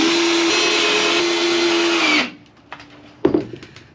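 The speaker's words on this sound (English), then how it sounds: "I'm just lining up this wood before I start screwing it in" A power drill driving screws into wood for a camper van floor, whirring steadily and close for about two seconds before winding down, followed by light knocks and a brief clatter.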